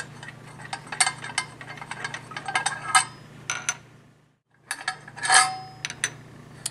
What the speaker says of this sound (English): Take the combustor out of your stove, set it aside.